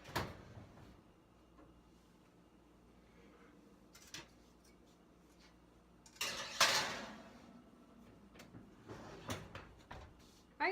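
A baking sheet of melted crayons slides into a home kitchen oven: a couple of quiet metallic clunks and scrapes, with a louder clatter near the middle as the sheet goes in and the oven door moves, over low background hiss.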